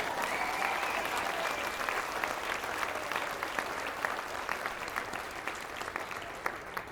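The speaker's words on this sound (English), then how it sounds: "I'd like to ask for one more round of applause, this time for the weather" Sustained applause from an outdoor crowd at a college pinning ceremony, a steady wash of many hands clapping throughout with faint voices mixed in.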